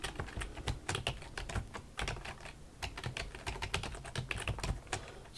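Rapid typing on a computer keyboard to enter an install command at the command line: dense, steady clicking keystrokes, close and fairly quiet, with no talking.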